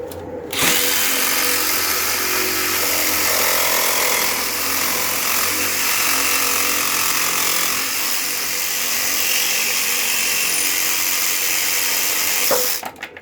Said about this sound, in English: So we're going to cut through the back side.